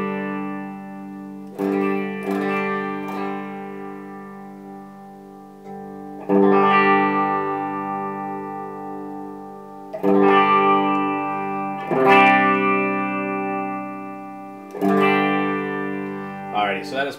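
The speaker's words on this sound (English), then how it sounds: "So let me get a clean sound here for you." An electric guitar plays through an amp with a clean tone: four separate strummed chords, each ringing out and slowly fading, close and clear.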